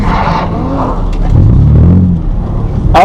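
A drift car, a Z, revs its engine loudly and close up in a sustained roar with a hint of tire skid, with no talking.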